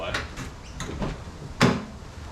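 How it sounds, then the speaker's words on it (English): Central door locks on a Toyota Land Cruiser 80 Series fitted with remote central locking give a few sharp mechanical clunks, with a louder final actuation near the end, heard close inside the cab. "press the unlock button for all the doors like that"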